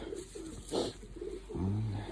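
A sprinter racing pigeon coos in a few low, throaty bursts spread across two seconds, close by and fairly quiet, with no talk over it.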